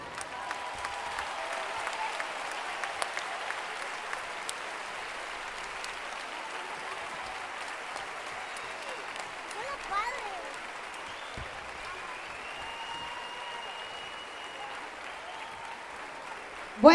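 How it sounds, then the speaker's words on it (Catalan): A school end-of-year party audience breaks into sustained applause, a dense, even wash of many hands clapping at moderate distance for the whole stretch, with a few voices murmuring beneath. "Ara sí que us demano aquell fort aplaudiment"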